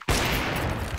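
Gunfire in a Counter-Strike esports match at the Perfect World Shanghai Major 2024: a loud, abrupt burst of shots that sets off a dense, sustained crackle for about a second.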